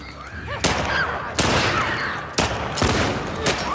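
Heavy bursts of gunfire echo through a parking garage in The Last of Us Part II, four loud booming volleys spaced about a second apart, close and reverberant.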